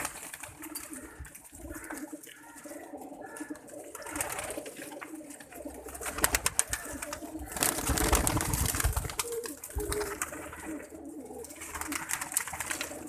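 Sialkoti pigeons coo softly in a loft, with faint repeated throaty calls under fluttering, rustling and background clatter that rise around the middle of the stretch.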